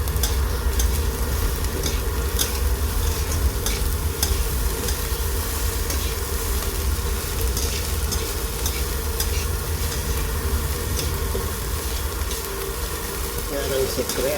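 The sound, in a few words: stirring fried rice in a pan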